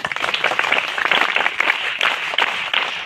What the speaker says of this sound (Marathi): जोरदार एकदा टाळ्या होऊ दे